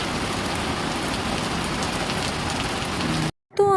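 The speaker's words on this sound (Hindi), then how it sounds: "बारिश बहुत ज़ोरों से हो रही थी।" Heavy rain pours down steadily as a loud, dense hiss that fills the clip before cutting off abruptly near the end.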